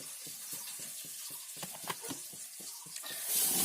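Oil poured into a hot kadai (wok) sizzles steadily, with quick crackling pops in an uneven rhythm, close and moderately loud.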